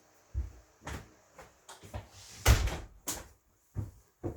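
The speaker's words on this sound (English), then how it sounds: "I'll just shut the door because the fan is blowing in my grow room" An indoor door beside a fan-cooled grow room being shut, heard as a series of close wooden knocks, rattles and a firmer thud in the middle, fairly quiet with short pauses between the sounds.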